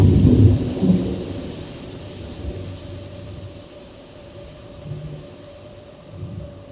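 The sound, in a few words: thunderstorm with rain, stage sound effect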